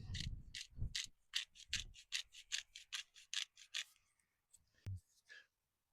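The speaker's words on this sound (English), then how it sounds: "I did buy an actual peppercorn grinder so we can" A hand peppercorn grinder cranked at a campsite gives a run of quick, close ratcheting clicks in regular bursts, trailing off into a few sparse ticks near the end.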